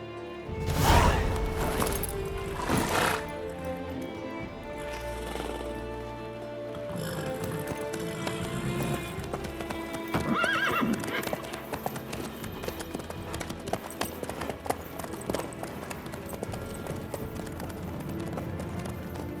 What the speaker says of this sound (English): How's your horse?